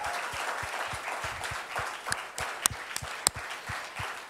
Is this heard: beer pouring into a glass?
no